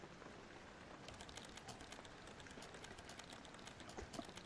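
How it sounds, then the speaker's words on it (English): Typing in the video game Penumbra Necrologue, faint irregular key clicks tapping in quick scattered bursts over a quiet background. "I hear typing, but I don't see typing."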